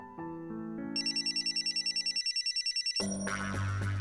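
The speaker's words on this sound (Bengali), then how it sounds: "তোরা কথা বল, আমি ফোন ধরছি।" A telephone rings indoors with a synthetic electronic ringtone, a rapid pulsing trill over layered tones, followed by a burst of background music.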